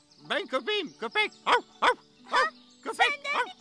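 A voice imitates a dog, yapping out a rapid series of cartoonish barks in short bursts over a quiet background.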